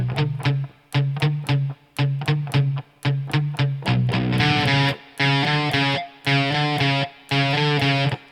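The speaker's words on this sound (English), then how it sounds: "So I'll play it really slow so you can see what I'm doing." Distorted electric guitar plays the palm-muted riff from a song slowly, with tight chugging chopped notes in a stop-start rhythm before opening into ringing, sustained strummed chords.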